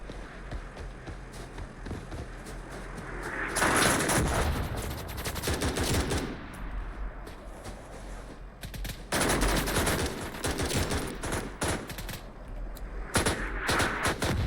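Sustained rifle fire from an M16A2-style clone in the video game BRM5 comes in long crackling bursts, with quieter gaps and dull thuds from incoming mortar fire.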